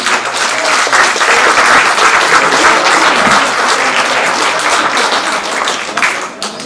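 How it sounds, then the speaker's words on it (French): Audience applause at a seniors' celebration in Sarraltroff, honoring the new eldest resident: a dense, steady wash of many hands clapping together, loud and sustained throughout before tapering slightly at the end. "On peut l'applaudir."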